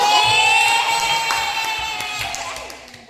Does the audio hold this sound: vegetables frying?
no